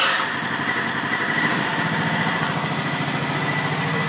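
A modified monster golf cart engine with a stock muffler runs with a close, loud, rapid puttering that settles into a steady idle-like rumble, with no talking over it.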